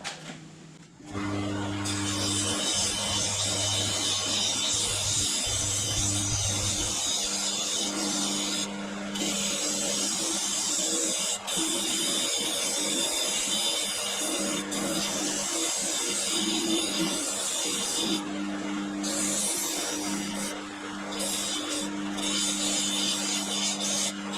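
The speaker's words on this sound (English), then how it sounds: "I'm going to sand them off and try and smooth it out." Steady, continuous rasping from sanding a homemade weedless barramundi swimbait lure, close and loud, running almost unbroken for the whole stretch with only a few brief dips.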